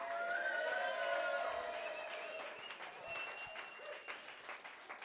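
Late-night pub audience at a comedy debate show applauding, a loud burst of clapping with some cheers that gradually fades over a few seconds while voices carry on underneath.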